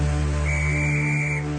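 A conductor's single steady whistle blast at a train station, held for about a second over a low continuous rumble, fairly loud and near.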